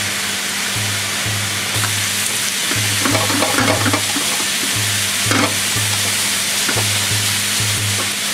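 Yakisoba noodles sizzle and hiss steadily as they are stir-fried in a home pan, a continuous close frying crackle with a recurring low hum and occasional scraping clatters, no talking.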